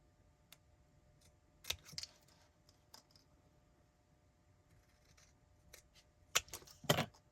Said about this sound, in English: And then I can snip it off on the edge.